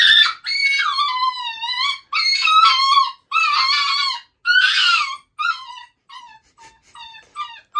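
Inside an RV, a barkless dog lets out a string of loud, close, high whines and wavering howls, long cries broken by short gaps and trailing off into softer whimpers near the end.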